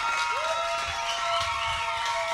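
Audience clapping and cheering for a pianist at a 2007 celebration performance, a steady dense crowd roar under a sustained tonal note that rises in and holds throughout.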